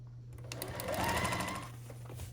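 Sewing machine stitching pieces onto a quilt block, a steady close motor hum with needle clatter running nearly the whole time at moderate volume.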